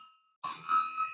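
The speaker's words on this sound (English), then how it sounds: "He wants to ring the bell twice" A bell rung twice at a Rotary Club meeting in Oakland, a bright metallic strike starting partway in and ringing on with a sustained, slowly decaying tone; no talking over it.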